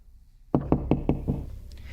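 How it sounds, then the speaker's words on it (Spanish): Five firm, evenly spaced knocks strike a front door, loud and close, after a moment of near silence, with the last knock trailing off into a faint room echo. "Escuchó golpes en la puerta de entrada."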